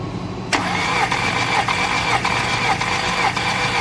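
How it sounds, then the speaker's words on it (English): A car engine cranks briefly, then catches and settles into a steady running idle, loud and close, during engine mechanical testing with no talk over it. "I'm gonna get my friend to start the car for me."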